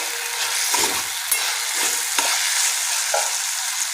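A spoon stirs cooked mixed vegetables in a pan, giving a few scraping strokes over a soft steady sizzle, close up and with no voices.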